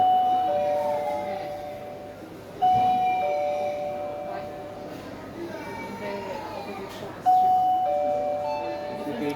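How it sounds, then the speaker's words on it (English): A smart lock's doorbell chimes twice, each a bright electronic ding-dong tone ringing out clearly over a steady background hum, with voices faintly present. "Now when you ring the bell,"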